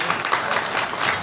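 Audience clapping at an Ok Life Care leaders' testimonial event in Guwahati, Assam: a steady, dense patter of many hands, fairly loud and continuous throughout the short burst.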